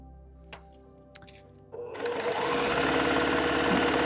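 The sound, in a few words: sewing machine stitching a quarter-inch quilt block seam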